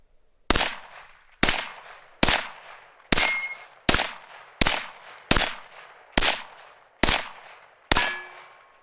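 Ten sharp, loud cracks from a Rossi RS22M .22 magnum rifle, firing one round after another at an even pace of roughly one per second, each shot ringing briefly before the next.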